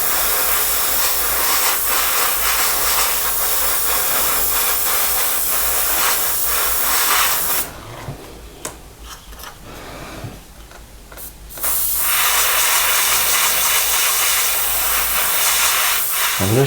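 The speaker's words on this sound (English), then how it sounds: "Now we're going to paint those grey. Sprays bit." Steady loud hiss of spray paint from an aerosol can, applying grey paint to the bulkheads of an Airfix 1/72 Westland Wessex model, held for several seconds, paused briefly, then resumed.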